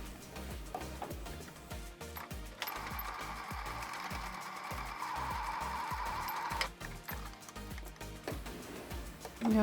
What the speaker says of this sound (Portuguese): E a última costurinha aqui, até a marcação que a gente fez